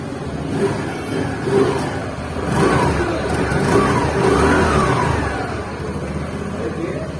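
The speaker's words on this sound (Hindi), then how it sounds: "एक बार मैं इसका एग्जॉस्ट नोट भी सुना देता हूँ वैसे कि कैसा आता है करके" A 2021 TVS Jupiter scooter idling and being revved close by, a mid-pitched engine hum rising and falling in a few short blips, with someone talking over it.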